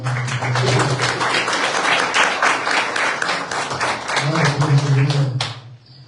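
Steady rhythmic clapping from a church congregation fills the room, with a sustained voice or tone running underneath before the sound cuts off near the end.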